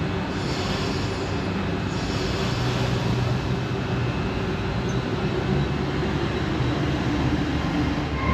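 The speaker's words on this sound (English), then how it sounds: "Bye bye train. Off she goes on her way to Penzance." A heritage train on the South Devon Railway pulls away from Totnes, giving a steady, continuous low rumble of wheels and running gear that holds even and fairly loud throughout.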